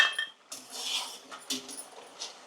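Crisp deep-fried jaggery gavvalu, a sweet shell-shaped snack, clink and rattle against each other and a utensil in short, close, irregular bursts.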